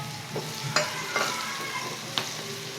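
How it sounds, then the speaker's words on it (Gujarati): Green chillies for sev poha hit a hot pan, giving a close, steady sizzle broken by a few sharp scraping stirs. "હવે જે આપણે મરચાં રાખ્યા છે એ આપણે અંદર નાખી દઈશું"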